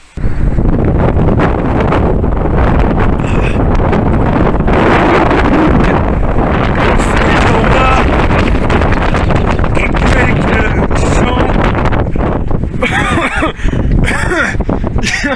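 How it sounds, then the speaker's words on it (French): Strong wind blasts straight into the microphone outdoors in Bosnia and Herzegovina, a loud, continuous roaring buffet with rumbling gusts that swamps everything else for the full length. "je me suis retrouvé avec des vents très forts et de tout ce que j'ai documenté, je n'ai absolument aucune image où l'audio est exploitable"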